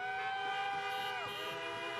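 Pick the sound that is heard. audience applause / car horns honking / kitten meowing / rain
car horns honking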